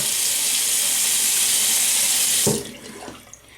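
Water runs steadily from a tap, a close, constant gush that stops abruptly partway through, leaving faint splashes and drips.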